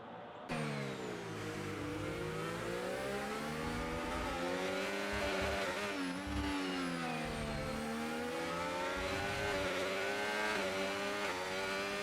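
Formula 1 race cars in a video game, engines screaming at high pitch as they accelerate and shift, a steady loud whine rising and falling continuously through the stretch.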